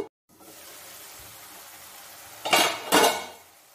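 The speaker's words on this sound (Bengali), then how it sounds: "শামুকগুলো দিয়ে দিলাম, আবার ঢাকা দিয়ে দিচ্ছি।" Snails are added to a cooking pot, leaving a low shuffling rustle, then a metal lid is set on with two bright clanks close together near the end.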